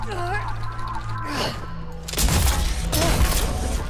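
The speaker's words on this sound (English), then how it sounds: "Okay, so now they are shooting at us." Gunfire aimed at the player in the video game ECHO, a burst of loud broadband shots and impacts arriving in the second half, heard over game music and speech-like chatter.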